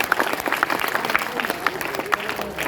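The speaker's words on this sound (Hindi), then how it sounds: "उन माता पिता के लिए आपको जोरदार तालियां बजा दें" Audience applause for students' parents at a Class 12 farewell ceremony in a school hall, a brief burst of mixed clapping with a voice speaking over it.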